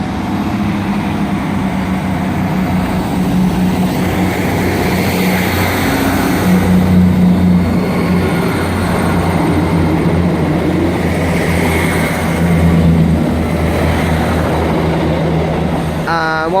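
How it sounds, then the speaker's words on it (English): A double pair of East Midlands Trains Class 158 diesel units running as a passenger service, a steady loud engine drone and rumble sustained while passing close by, with a brief horn-like tone near the end. "it's the East Midlands Trains 158, and it's a double pair with 158777 bound for Norwich"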